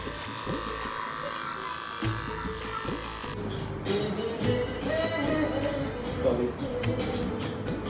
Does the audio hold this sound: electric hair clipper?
yes